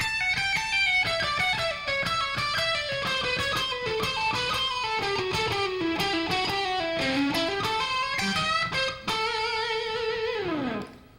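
Someone plays a fast run of his own invented scale on a distorted electric guitar, a dense rapid stream of picked notes rising and falling for several seconds, closing with a held note bent downward.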